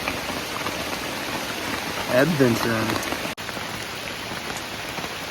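Steady rain pattering on surfaces at a primitive campsite in Monte Sano State Park beside a campfire, a dense close hiss throughout, with a man's brief spoken word in the middle.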